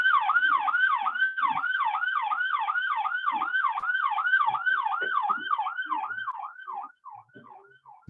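A police patrol car siren wails in a fast, rapidly cycling yelp, steady and fairly loud from outside, then breaks up and fades toward the end.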